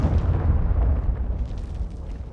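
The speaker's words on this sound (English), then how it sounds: "Cruise missile launched." A cruise missile blast in Call of Duty: Modern Warfare II, a loud, heavy explosion with a deep rumbling roar that slowly thins out over a couple of seconds.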